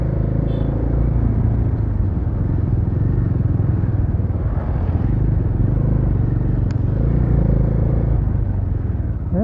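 A Bajaj Dominar motorcycle rides along a road in Nepal, a steady loud engine rumble and road noise continuing throughout with no letup, heard close from the rider's position.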